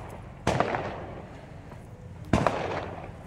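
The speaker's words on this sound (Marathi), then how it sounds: "बघा कसले फटाके वाजले" Two sharp firecracker bangs go off outdoors about two seconds apart, each a sudden crack with a short rumbling tail, against a quiet background.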